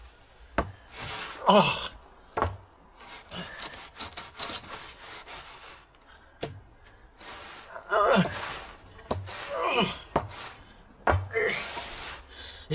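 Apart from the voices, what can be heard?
scraping a layer of sand off a garden base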